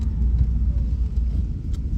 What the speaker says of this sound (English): Got to bed the brakes, so got to do about, 4 or 5 stops from 30 miles an hour.